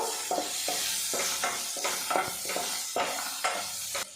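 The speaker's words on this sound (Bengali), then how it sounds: "পেঁয়াজটা দিয়ে আমি ভাজা ভাজা করে নেব" Finely chopped medium onion frying in a pan for a spinach and eggplant dish, a constant sizzle with regular spatula stirs and scrapes about every half second.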